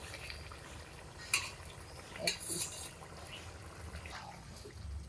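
Katla fish pieces tipped back into a simmering pan of curry with bottle gourd, making two soft splashing clatters over a quiet, low bubbling background.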